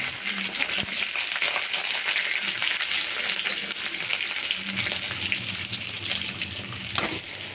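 Chana dal and a handful of curry leaves frying in oil for a village-style snake gourd poriyal, a steady loud sizzle and crackle with occasional stirring clinks. It stays close and even throughout, and no one speaks.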